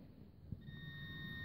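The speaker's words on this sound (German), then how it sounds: "Da habe ich vorher schon Piepsen gehört." A metal detector used at night for treasure hunting gives off a faint, steady electronic tone that starts just after a soft thump and holds to the end, quiet and close.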